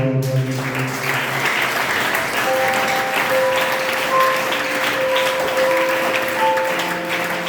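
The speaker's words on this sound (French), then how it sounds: "On applaudit Seigneur." A church congregation applauds in a broad, continuous wash of clapping that holds steady throughout, with sustained organ or keyboard tones sounding underneath.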